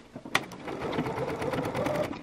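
A sewing machine stitches binding onto a garment facing in a short, fast burst, its needle rattling rhythmically up close after a brief click at the start.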